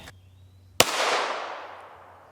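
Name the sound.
pistol shot from AREX Delta Gen 2 long slide at aramid helmet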